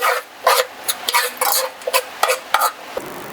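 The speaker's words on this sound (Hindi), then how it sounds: "अब हम इसको मिक्स करके थोड़ा सा भून लेंगे।" A spoon scrapes and stirs frying onions with bay leaves and garam masala in a pot for chicken biryani, making close, loud, irregular bursts of metallic scraping and sizzling with brief gaps between strokes.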